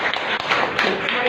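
A congregation claps at a Hindi-language Christian church service: a dense, even patter of many hands heard briefly and nearby, with a faint voice underneath.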